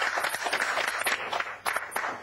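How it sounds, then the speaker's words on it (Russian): A studio audience on a reality TV show applauds, giving a steady patter of clapping at moderate distance with a few louder bursts. "Мне это достойно аплодисментов."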